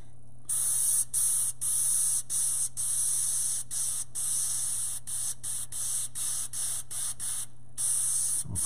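An airbrush sprays paint onto a stencil for a chrome chain, making loud close hissing bursts of about half a second to a second. The bursts come in a steady rhythm of short pauses over a low background hum, and no one speaks.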